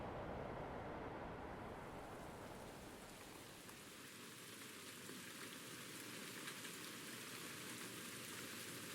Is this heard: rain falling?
yes